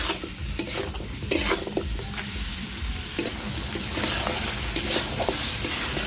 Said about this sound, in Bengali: আগে মাংসটাকে এভাবেই আমি একটু কষিয়ে নেব।